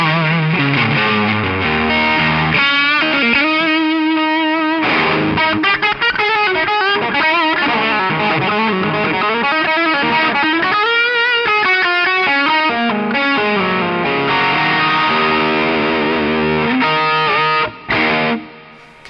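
Electric guitar run through a Strymon Riverside drive pedal with gain maxed in its low-gain mode, a dense crunchy overdriven tone playing chords and riffs continuously and loud, ending with a brief pause and a last strum.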